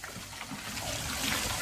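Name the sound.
water trickling out while cleaning a condenser with Nu-Calgon Tri-Clean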